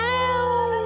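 A man imitates a yowling cat, giving one sustained, nasal, meow-like wail that holds a steady pitch and stays loud and close for under a second.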